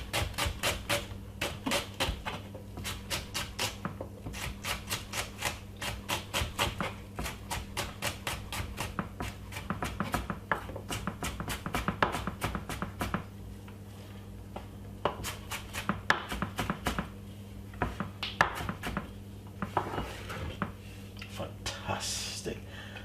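A knife finely dices half a white onion on a board, making a long run of quick, crisp taps in an uneven rhythm over a steady low hum.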